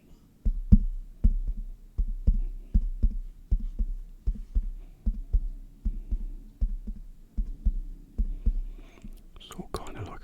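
Soft, regular thumping made in an ASMR session to mimic a heartbeat, repeating in a steady rhythm for about eight seconds, close and intimate, with a brief rustle at the end.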